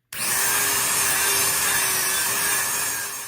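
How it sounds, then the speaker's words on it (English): A small high-speed Dremel rotary tool with a sanding bit whines steadily while grinding paint off a metal motorcycle swing arm, a continuous buzzing rasp that fades slightly toward the end, with no talking. "grab your Dremel tool with a little sanding bit"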